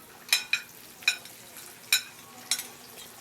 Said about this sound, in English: This trio will be sautéed just a bit until red onions are added to the party